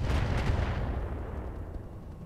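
Mortar fire in the mech video game Roguetech, a heavy booming blast that opens loud and close with a couple of quick thuds, then rumbles and fades away over about two seconds.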